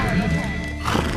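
Feral horses, brumbies in Victoria's high country, neigh and whinny close by over a steady background, with a brief hint of hoof clops; the burst is short.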